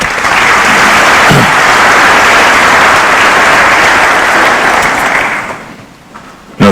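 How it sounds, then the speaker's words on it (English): Sustained loud applause from a large audience at a formal opening event with a Kenyan government official, a dense even clatter of clapping lasting several seconds before tapering off sharply. "Round of applause, ladies and gentlemen."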